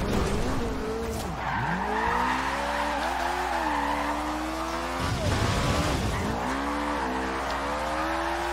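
A car drifts in the Forza Horizon 2 racing game, its engine whining and shifting pitch while tires squeal through long slides, loud and continuous with a couple of sharp transitions.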